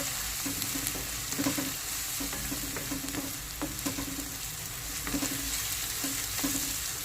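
Ingredients in a pan sizzle steadily after turmeric is added, with repeated scraping stir strokes cutting through the continuous frying hiss at moderate loudness.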